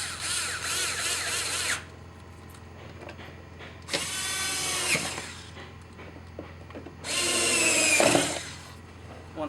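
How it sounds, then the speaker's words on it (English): Powered driver running three T20 Torx screws back into a cover panel on a Volkswagen GTI Mk5 four-door, three separate whirring bursts of a couple of seconds each with quiet gaps, close and clear. "Then we'll put our 3 T20 torque screws back in."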